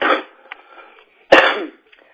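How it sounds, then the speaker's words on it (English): A podcast host lets out a short vocal sound, then after a pause a single sharp, close cough with a brief raspy tail. "There goes my cough."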